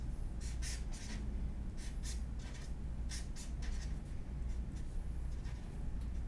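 Pen scratching across paper while sketching a simple stick figure, a close, continuous rasp broken into short strokes and pauses, with no talking.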